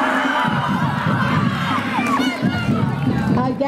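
Crowd at a high school homecoming parade cheering and shouting for youth cheerleaders and football players, loud and close, with children's voices and excited shouts rising over the babble.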